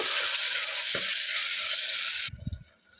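Tomatoes cooking in a pan until soft, a loud steady hissing sizzle close by for about two seconds that stops abruptly, leaving a few soft clatters.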